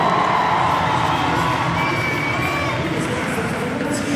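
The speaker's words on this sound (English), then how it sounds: "Nice ovation from the crowd here at the Music City Center." A crowd cheers and applauds in an indoor arena, the Music City Center, during a women's CrossFit-style regional competition event; a steady, loud wash of ovation with shouts fills the whole stretch.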